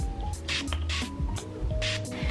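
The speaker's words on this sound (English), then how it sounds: "I use Badescu facial spray, rosewater" Rosewater facial setting spray mists from a pump bottle in several short, close hissing bursts, spaced unevenly with light handling clicks between them and no talk.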